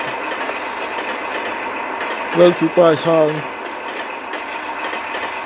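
A train pulls into a station in the video game Train Timulator, a steady mechanical hum and hiss running throughout while someone speaks briefly over it.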